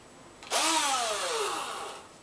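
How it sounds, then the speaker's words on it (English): A cordless drill whirs up sharply and runs steadily for under two seconds, its motor pitch sliding down slightly as it winds down, close and loud. "it's just an ordinary battery drill"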